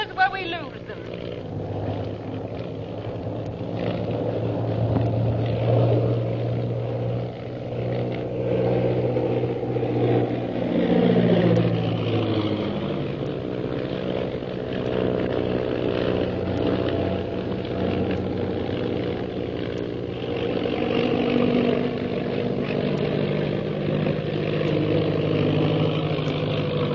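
A steady airplane engine drone in flight hums throughout, with a rising whine partway through, while voices talk over it.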